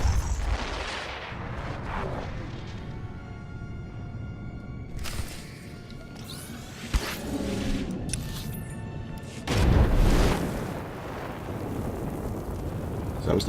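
Base generators blow up in the Star Wars: The Old Republic video game, with heavy booming explosions and rumbling blasts spread over a dense, loud battle soundscape, including a strong burst near the end.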